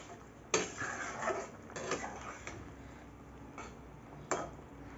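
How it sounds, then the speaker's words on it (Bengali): Mixed vegetables and mung dal fritters being stirred in a pot, with sparse metallic clinks and taps of a utensil against the pot rim over a quiet simmering background. "একটু নেড়ে চেড়ে দেবো।"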